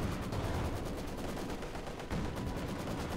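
Mortar barrage in the strategy video game Company of Heroes 2, a faint, dense rattle of distant explosions and gunfire rolling continuously under the game's battle noise.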